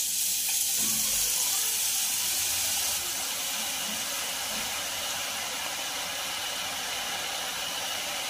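Red-coloured boondi batter fries in hot oil, giving a steady, close sizzling hiss that barely changes throughout.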